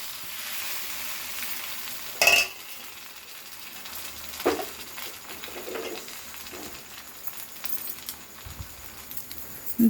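Rice-flour batter made with maida and egg sizzles steadily on a tawa over a low gas flame, a soft continuous fry with a few sharper clinks and scrapes standing out.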